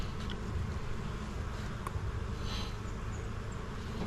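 Honey bees drone at an opened, very weak hive, with a steady close buzzing hum and occasional individual bees passing near.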